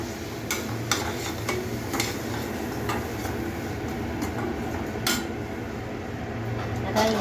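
Spoon stirring garam masala, cumin powder, coriander powder and turmeric in a pan while cooking prawns masala: faint scraping and light metallic taps over a steady sizzling, hissing background.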